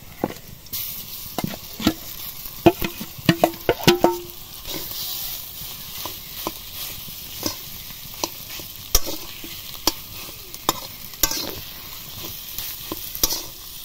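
Mashed boiled potato being stirred into fried onions in a pan, giving a run of close scraping and clattering spoon strokes over a steady low sizzle, busiest early on and then settling into sparser stirring.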